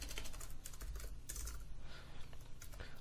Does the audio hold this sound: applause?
no